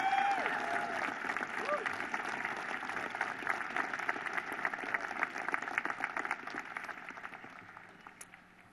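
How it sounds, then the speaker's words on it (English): A large crowd claps at Kentucky Governor Andy Beshear's second inauguration, sustained applause that swells and then slowly fades, with a voice briefly heard at the start. "one more big round of applause for our Lieutenant Governor, Jacqueline Coleman."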